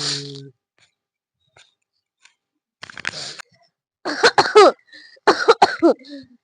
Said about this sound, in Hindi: अरे राम खांसी आवे लाग